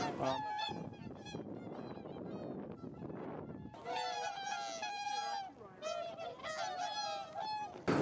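Birds at a feeder in snowy winter Japan, loud repeated honking calls near at hand, some overlapping in quick bursts after a brief lull.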